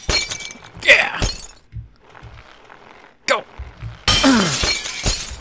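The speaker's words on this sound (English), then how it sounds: "Crush all this glass" Glass shatters in the Happy Wheels game in a few sharp, loud crashes with tinkling debris, separated by quieter gaps with thuds, while a player talks excitedly over it.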